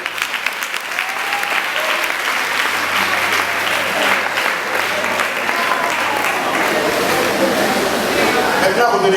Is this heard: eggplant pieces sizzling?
no